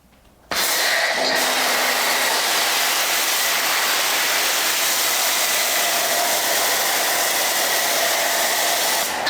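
A pressure washer set to 1,800 PSI sprays through a foam cannon, starting abruptly with a loud, steady hiss and roar that holds unbroken, close and with no talk.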